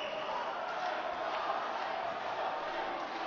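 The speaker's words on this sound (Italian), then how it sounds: "il tifo di Erba e delle bocce che si fa sentire pazzesco" Fans of Erba cheer in a basketball arena, a steady, fairly loud crowd roar that is dense and unbroken throughout.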